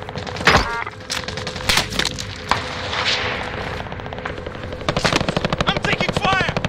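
Gunfire in Call of Duty Warzone, with sharp single shots and short bursts early, then a rapid run of automatic fire near the end, over a steady hum of combat ambience.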